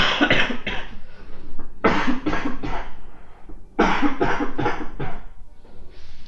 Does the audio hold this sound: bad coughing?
yes